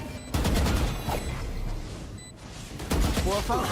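Rapid gunshots ring out in Valorant during a competitive match, with loud bursts of fire, a brief lull and then more shots, under an excited commentator's voice.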